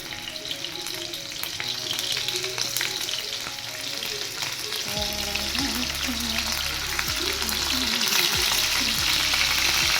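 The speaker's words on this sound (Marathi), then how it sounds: "तुम्ही बघू शकता तेल तापले. तर आता मी काय करणार, एक एक पनीर प्लेस करते." Paneer pieces frying in hot oil, a dense continuous close sizzle and crackle with a low hum underneath, growing slightly louder as more pieces go in.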